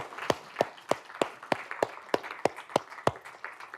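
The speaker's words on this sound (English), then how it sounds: "Round of applause for you all." Sparse applause from a small group in a university computer science lecture hall: about a dozen slow, evenly spaced claps, quiet and distinct with no talking.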